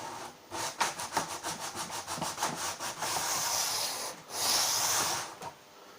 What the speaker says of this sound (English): Basically sanding it down till I've got more or less just the blue showing